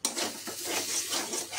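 A spoon scrapes and stirs a thick paste of fried potato and pointed gourd peels in a pan, with close, steady rasping strokes and no talking.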